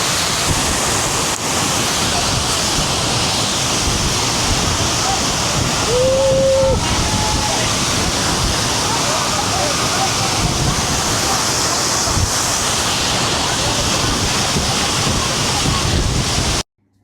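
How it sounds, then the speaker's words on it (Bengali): Suptadhara waterfall in Sitakunda roars in monsoon flow, a loud, dense, unbroken rush of water filling the whole stretch, with a brief faint tone partway through. "কি পরিমাণ স্রোত যাচ্ছে এখানে এই জায়গাটা, স্পেসটার মধ্যে মারাত্মক স্রোত"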